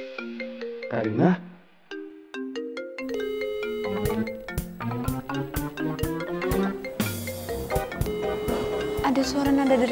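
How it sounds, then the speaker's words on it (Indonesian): A mobile phone ringtone plays a bright, tinkling electronic melody of repeated notes that grows busier and louder over several seconds, after a short opening of sound and a brief gap. "Ada suara nada deringnya Ciko di sini"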